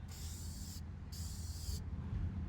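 Two hissing bursts of cooking spray onto shrimp, each under a second, with a short pause between, over a steady low background rumble.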